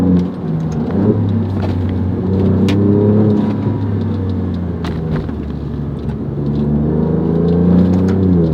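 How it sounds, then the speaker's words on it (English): A 2025 Alfa Romeo Giulia Quadrifoglio V6 with an Akrapovic exhaust pulls hard from inside the cabin, its loud engine note sweeping up through the gears in repeated rising surges with crackles between shifts. "Ah, that V6. Just let it sing with the Akrapovic."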